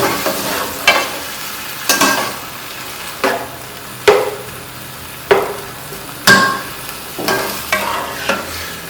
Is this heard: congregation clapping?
no